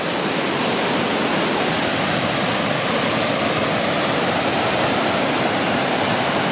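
A waterfall on the Skerwink Trail in Newfoundland gives off a steady, loud, close roar of rushing water that stays constant throughout, with no voices over it.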